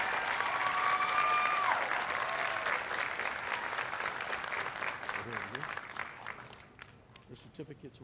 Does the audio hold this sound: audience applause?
yes